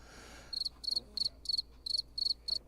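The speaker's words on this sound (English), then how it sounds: "Cue the crickets, man." Cricket chirps played as a sound effect from a soundboard during a live gaming show, seven short high pulsed chirp bursts in a steady rhythm, clear and alone over quiet background.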